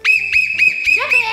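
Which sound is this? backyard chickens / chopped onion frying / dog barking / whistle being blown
whistle being blown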